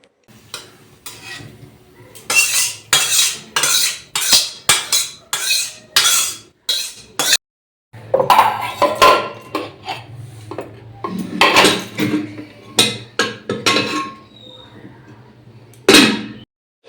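A pot of poppy-seed curry comes off the stove with repeated metal scraping, clatter and rubbing of utensils against cookware, close and loud in bursts, with brief pauses and someone talking at times.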